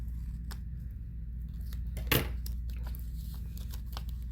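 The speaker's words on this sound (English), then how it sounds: "maybe I just need to trim this a little bit" Scissors trim the edge of a folded Eevee card in a quiet room, a few soft snips and one sharper cut near the middle, close and faint over a low background hum.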